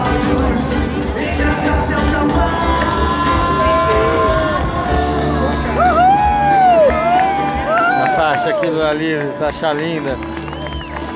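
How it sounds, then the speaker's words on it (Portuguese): An outdoor crowd at the Lula Livre festival in São Paulo cheers, whoops and claps after an aerial dance performance. A lively, sustained roar with scattered shouts, while people talk nearby over the noise. "A galera aplaudindo aqui."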